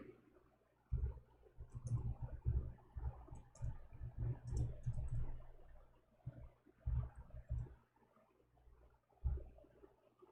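Irregular soft clicking and tapping of fingers on a computer keyboard, faint and close, in bursts with short pauses, no talking over it.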